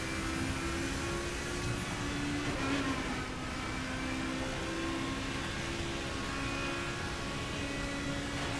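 Car engine in The Crew racing game holding a steady, loud drone through a time attack in the Everglades, the tone rising as it revs, with no voices.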